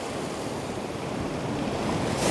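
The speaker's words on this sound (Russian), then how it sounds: "прекрасное зимнее море" Steady wash of winter sea surf breaking on the shore at Sochi, with wind noise on the microphone and no voices.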